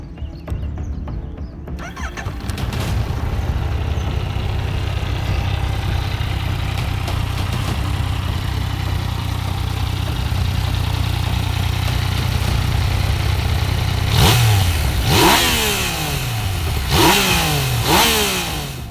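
A Yamaha MT-09 motorcycle engine idling steadily at close range, then revved sharply several times toward the end, each rev rising and falling quickly.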